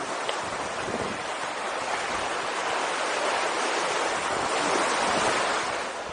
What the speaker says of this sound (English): So here we are on the beach